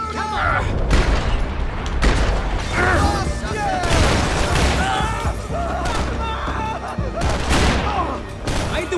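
Gunfire in the video game Max Payne 3, with loud repeated shots and bursts, booms and clattering impacts in dense overlapping rhythm through the whole stretch, with voices shouting beneath.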